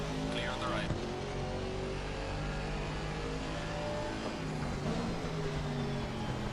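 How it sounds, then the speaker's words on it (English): A Porsche race car engine in the Assetto Corsa Competizione sim racing game at Watkins Glen revs loudly and continuously, rising and falling through gear changes, with a person talking over it. "I love the sound of the Porsche in ACC, gotta say."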